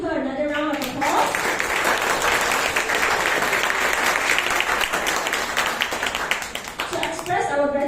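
An audience at a confidence-building talk gives a speaker a full round of applause, dense, sustained clapping for several seconds, with a voice speaking briefly before and after.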